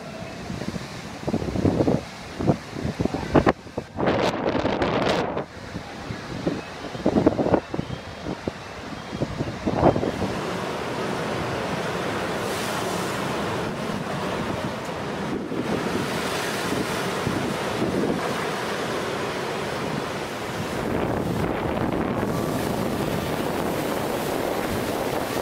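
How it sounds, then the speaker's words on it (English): Huge ocean waves crash against the coast of Spain, their roar heavy and continuous under strong wind buffeting the microphone, with several bursts of loud surf early on before settling into a sustained wash. "A monster wave is recorded in Spain in 2014."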